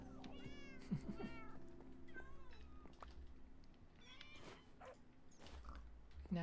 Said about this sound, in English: Where did that cat go?